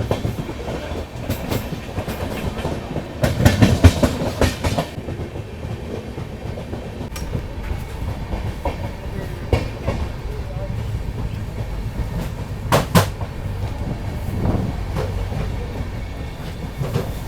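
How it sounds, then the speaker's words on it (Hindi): A passenger train arriving at Panipat Junction rolls along with steady rumbling and rhythmic clacking of wheels over rail joints, a few louder bangs, while a voice talks nearby. "ये भी अभी आ रही है पानीपत जंक्शन और अपनी ट्रेन भी पहुंच रही है।"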